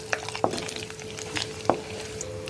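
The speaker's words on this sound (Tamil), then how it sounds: "இப்போ கடலைப்பருப்பு ஆட் பண்ணி வதக்கிக்கலாம்" Chana dal sautéing with popped mustard seeds in a pan, a faint low sizzle punctuated by a couple of sharp spatula scrapes and clicks at close range.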